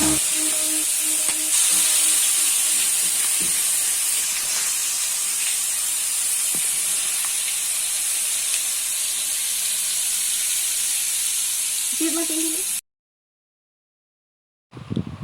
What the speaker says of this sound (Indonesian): Minyaknya sudah panas, masukkan bumbunya, kemudian ditumis bumbunya